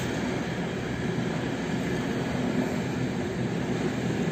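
ET22 electric locomotive number 1096 hauling a long freight train of truck-carrying wagons through Warszawa Gdańska station, a steady loud broadband rumble and rail roar that stays constant throughout with no talk.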